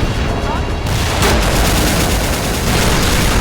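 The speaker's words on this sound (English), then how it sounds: "the background artillery support" Simulated artillery fire in a toy war animation, a dense, continuous roar of booming and gunfire that stays loud and unbroken throughout, with no talk over it.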